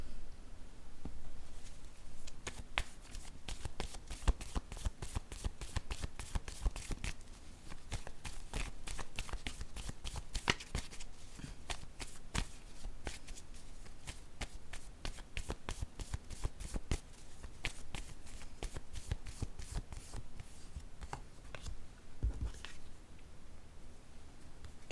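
A deck of cards being handled and shuffled for a tarot-style reading, a close, rapid riffling patter of card edges running in long bursts with brief pauses between them, quiet and with no voices.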